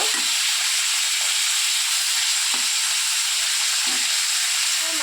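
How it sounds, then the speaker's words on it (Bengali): Hot oil sizzles steadily around frying fish, a constant crackling hiss broken by a few low thumps as the pieces are moved. "মাছটাকে ভালো করে ভাজা করে নেব"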